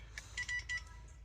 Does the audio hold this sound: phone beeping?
yes